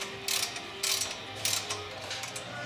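Ratchet tightening wheel hub bolts during a wheel hub replacement, three short bursts of rapid ratcheting clicks, close and fairly loud, separated by brief pauses.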